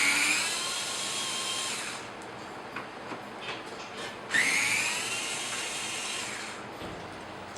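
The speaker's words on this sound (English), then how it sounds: "we're going to remove the 2 T30 Torx screws that are over here" A cordless driver removes two T30 Torx screws from the bumper cover of a Porsche 997, whining in two long bursts with rising pitch, separated by quiet handling noise.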